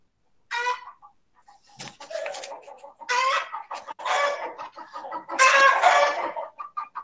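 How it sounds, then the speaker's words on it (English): Chickens cluck and squawk in irregular, overlapping bursts, fairly close and loud, with short pauses between clusters of calls. "Oh, I love the chicken."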